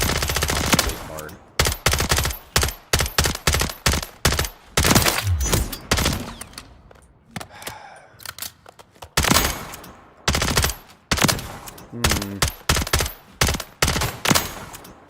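Rapid bursts of automatic gunfire from a gun in a video game, loud and close, coming in repeated volleys with short pauses between them throughout.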